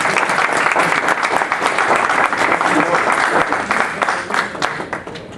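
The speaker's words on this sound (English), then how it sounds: "We certainly owe a round of applause for Mr. Jean-Paul." A room full of people breaks into loud, sustained clapping that holds steady throughout and starts to thin out toward the end, with some voices audible beneath it.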